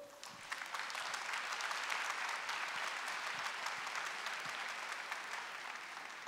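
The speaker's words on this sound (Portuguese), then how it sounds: "aplauda o Senhor" An audience in a church applauds steadily, a dense sustained wash of many hands clapping, moderately distant and even throughout.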